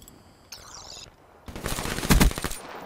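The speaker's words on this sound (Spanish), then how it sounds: "¿Quién me está disparando?" Black Ops 3 gunfire: a faint, short burst early, then a loud, rapid stream of automatic shots that peaks near the end, alone without talk.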